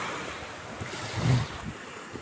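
Sea waves wash against the Italian coast in a steady, close roar mixed with wind buffeting the microphone, with one slightly louder surge partway through and no voices.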